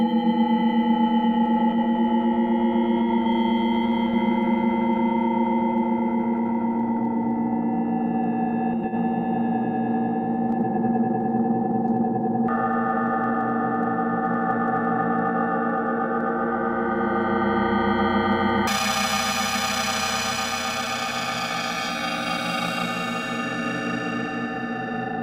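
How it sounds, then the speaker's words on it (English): A sustained synthesizer tone with rich harmonics, its timbre shifting in steps, washed in a lingering reverb tail from a Sonic Core Scope dNa effects rack; no voices. "Add some reverb."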